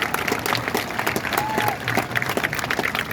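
A crowd at an outdoor gun-control rally breaks into applause, scattered clapping rising and falling in uneven bursts over a steady murmur of background noise.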